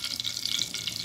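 Eggplant slices frying in a pan give off a steady, dense sizzle with fine crackling throughout, close and even in loudness with no talk.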